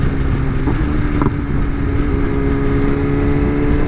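A 2024 BMW M 1000 XR motorcycle cruises on the road, its engine giving a steady loud drone mixed with heavy wind rush.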